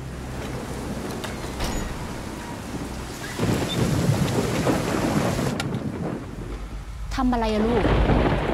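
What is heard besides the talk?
thunderstorm with heavy wind and rain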